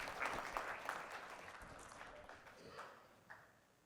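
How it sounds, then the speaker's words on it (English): An audience at a scholarship awards dinner applauding, a steady wash of clapping hands that fades slightly toward the end, heard from a moderate distance. "Let's give these guys a round of applause."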